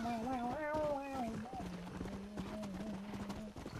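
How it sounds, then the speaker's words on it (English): Horse hooves clip-clop at a steady run in the video game Red Dead Redemption, heard under continuous excited talk and game music. "This is a horse!"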